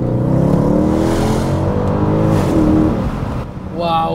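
A Mercedes C63 AMG V8, previously wrecked, revs hard in second gear on a countryside road, a loud, rich, continuous engine roar that holds steady and then dips briefly near the end.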